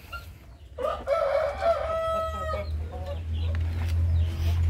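Rhode Island chickens in a backyard coop, a rooster crowing clearly up close over a low rumbling background, followed by softer clucking and farmyard noise.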